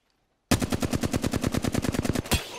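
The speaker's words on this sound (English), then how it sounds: "Opening fire on the enemy." Automatic gunfire in the video game Apex Legends: a loud, rapid burst of about twenty evenly spaced shots that starts abruptly after a moment of silence and ends with a final thump.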